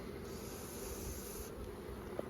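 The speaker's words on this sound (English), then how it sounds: "Whoa, look at all those bees." Honey bees buzzing at an open hive during an inspection, a dense continuous hum from many bees close by, steady and fairly quiet with no talking.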